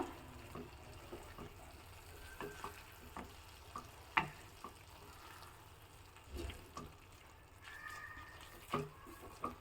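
Masala in a pan gives a soft, steady sizzle after a little water is added, with occasional clinks and stirring scrapes, quiet and close.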